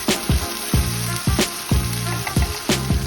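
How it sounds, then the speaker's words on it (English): Egg fried rice seasoned with soy sauce stir-fries loudly in a pan, a close, strong sizzle punctuated by five or six regular, forceful tossing and scraping strokes. "Give it a thorough mix."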